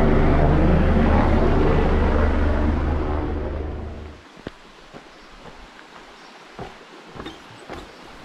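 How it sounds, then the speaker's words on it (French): A helicopter carrying out a medical evacuation during the Diagonale des Fous trail race on Réunion roars loudly for about four seconds, then fades away, leaving quiet outdoor ambience with a few light knocks. "Quand il y a un accident grave, c'est forcément par l'hélicoptère."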